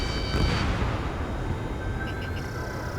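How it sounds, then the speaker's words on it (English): Bombing explosions rumble in the Ace Combat 7 video game, a dense low booming barrage with a sharper burst early on, continuous and loud throughout. "They're bombing us!"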